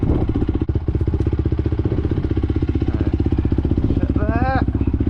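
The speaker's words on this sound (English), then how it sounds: "Bike's warming up." A dirt motorcycle idles steadily while warming up before a desert ride, its close, loud engine thumping in a fast even putter throughout, with a brief rising whine near the end.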